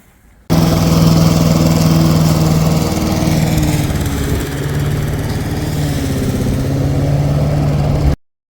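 A lawn mower cutting long grass grown for 50 days in Melbourne, its engine droning loudly and steadily up close from start to finish, with slight dips in load.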